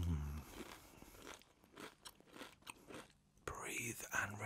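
Walkers stone-baked pizza flavour crisps being bitten and chewed close to the microphone, crisp crunches coming in bursts, with soft close speech between the bites.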